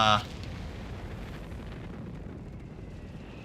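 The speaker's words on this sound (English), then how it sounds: "No, it's fire and artillery." Artillery explosions in Company of Heroes 3 during a 4v4 battle on Monte Cavo: a loud, sharp blast right at the start, then a low, rumbling battlefield roar that fades slowly.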